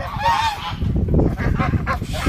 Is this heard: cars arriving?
no